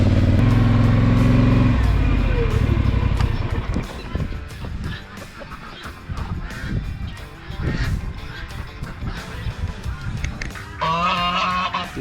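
A duck calls repeatedly with loud nasal honks inside a compound pen, mixed with bird chatter, scuffling and a brief voice in the background.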